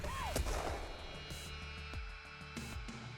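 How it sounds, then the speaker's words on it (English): Video game explosions and gunfire boom and crackle repeatedly over a dense, noisy battle soundscape with a grenadier nearby, the blasts arriving in loud bursts at irregular intervals. "And did you lower the sound effects explosion?"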